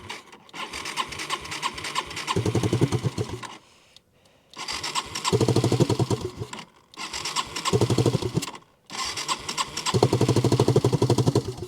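A small three-wheeler engine with an exhaust leak cranks and catches in repeated bursts, sputtering and revving roughly with a ticking, raspy exhaust, cutting out briefly between attempts.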